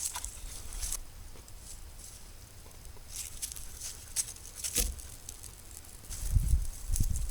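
Faint, scattered crackles and sharp pops of burning birch bark, irregular and close, over a low steady background hiss.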